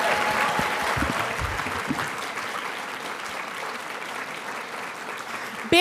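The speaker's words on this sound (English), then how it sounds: "one more round of applause for all our graduates" Applause from a graduation audience at a public interest and pro bono program, a dense wash of clapping that starts strong and holds steady for several seconds, with a few voices and cheers mixed in.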